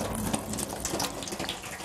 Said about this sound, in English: The water seeps in through these cracks here.